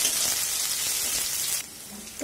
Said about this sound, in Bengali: এবার পেঁয়াজটাকেও লাল লাল করে ভেজে নিতে হবে।